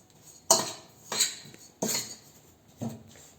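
Spoon working butter and sugar together in a bowl, four distinct scraping, clinking strokes at a slow uneven pace, close and fairly quiet, with no talk.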